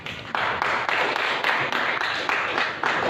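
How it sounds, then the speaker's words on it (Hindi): Audience clapping at a spoken sermon-style talk, a steady, moderately loud patter of many hands that swells in rhythmic waves for a few seconds. "ताली तो बजा दो मेरी बातों पर"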